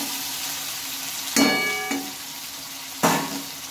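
Oil sizzles steadily in a pan as potatoes fry for an egg-potato curry, broken by three sharp metallic clanks of a utensil against the pot.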